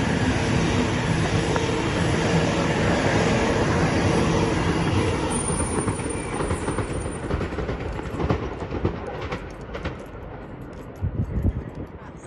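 A train rolls through a station past platform 2 with a loud, continuous rumble and rattle of wheels close by, fading slightly toward the end with a few clanks.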